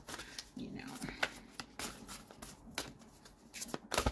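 Tarot cards are shuffled by hand in a series of soft, papery riffles and slaps, faint and close, under continuous talking.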